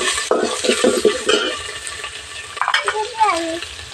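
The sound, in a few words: ginger garlic paste frying in a pan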